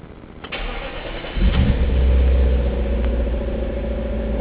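A car engine is started with a modified cigarette lighter standing in for the ignition: a brief cranking burst, then the engine catches and settles into a steady, loud idle close by.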